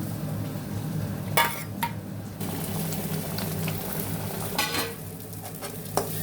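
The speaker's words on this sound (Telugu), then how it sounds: "ఇదండి బెండకాయ వేగిపోయింది" Okra (bhindi) frying in a pan, with a constant close sizzle and a few brisk spatula stirs scraping the pan at intervals, no talking.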